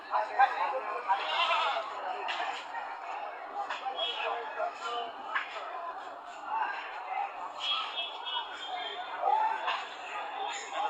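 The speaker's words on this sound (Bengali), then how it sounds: "এখানে অনেক ছাগল উঠছে" Goats bleat again and again over a lively murmur of people talking outdoors at the Isapura livestock market, the calls overlapping and fairly close.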